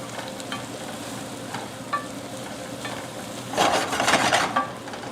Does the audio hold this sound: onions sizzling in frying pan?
yes